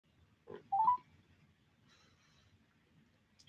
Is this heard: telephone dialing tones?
yes